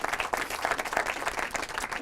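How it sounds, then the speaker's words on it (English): An audience at a history book club event applauds, with dense, steady clapping from many hands close by and no speech over it. "He deserves a round of applause."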